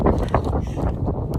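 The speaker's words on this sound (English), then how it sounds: "Oh, it's windy up here." Steady wind roars across an exposed hilltop, buffeting the microphone with a continuous low rumble and gusty bursts for the whole moment.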